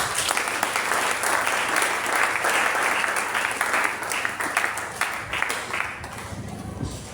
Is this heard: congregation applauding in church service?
yes